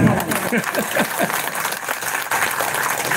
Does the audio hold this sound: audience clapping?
yes